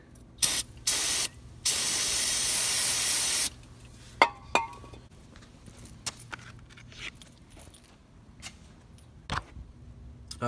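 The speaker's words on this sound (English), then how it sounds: "So I'm gonna spray this with some brake clean." Brake cleaner sprayed in loud, close hissing bursts onto dirty drift-car parts: two short blasts, then a long sustained spray, followed by scattered metallic clinks and jangles of parts being handled.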